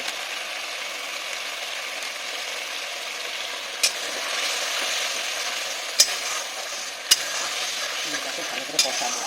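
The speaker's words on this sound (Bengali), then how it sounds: "মশলাটাকে আমাকে ঘন ঘন নেড়ে এইভাবে এটাকে কষতে হবে" Spice paste with chilli and cumin powder frying in a pan and stirred often, a steady close sizzle with soft scraping, broken by a few sharp clinks of the spatula against the metal.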